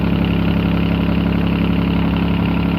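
Perkins three-cylinder diesel engine idling steadily after being bled, a loud, even low rumble with no talk over it.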